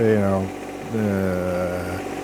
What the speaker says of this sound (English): it's still steep, but this tractor doesn't hesitate. I'm practically in idle right now.